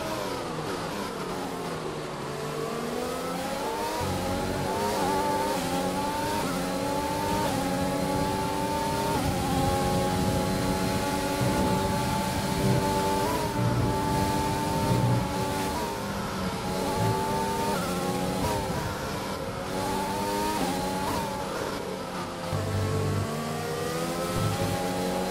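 A race car engine revs continuously in a racing video game, a steady high-pitched whine rising and falling with gear changes and throttle, loud and unbroken throughout with no talk over it.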